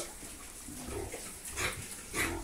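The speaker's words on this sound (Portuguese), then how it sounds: "E as porcas aqui" Sows in a farm pigsty grunt two or three times over a steady, noisy background; the grunts are rough, short and moderately close, with no talking.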